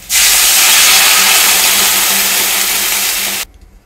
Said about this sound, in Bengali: এবার আমি এর মধ্যে দিয়ে দেবো জল।